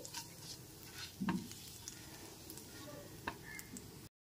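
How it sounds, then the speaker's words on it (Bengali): Half a teaspoon of whole cumin seeds sizzles softly in oil over a low gas flame while being stirred lightly, with gentle crackling and a few scrapes of the spoon, close by and quiet. "এরপর এতে দিয়ে দিচ্ছি হাফ টিস্পুন গোটা জিরে। এরপর হালকা করে এটা একটুখানি নেড়ে নিচ্ছি।"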